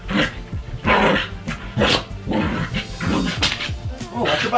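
A dachshund growls and yips in play, with repeated rough bursts of growling and barking close by, mixed with people talking over it throughout.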